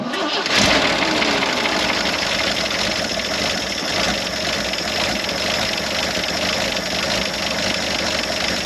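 An old Jeep CJ5 with a Ford carburetor, forgotten for 16 years, cranks briefly and catches, then settles into a loud, steady, close idle that rumbles on without letup.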